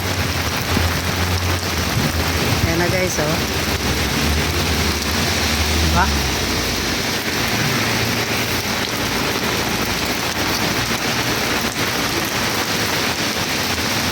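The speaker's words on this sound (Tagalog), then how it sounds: "Iba-iba ang sound ng ulan." Heavy rain pours down in a steady, dense hiss that lasts the whole time, with a person speaking briefly over it.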